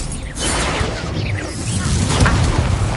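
In Hogwarts Legacy, a Confringo spell bursts with a whooshing rush into a heavy boom, followed by rumbling mechanical clatter and a second surge of blast noise, all fairly loud.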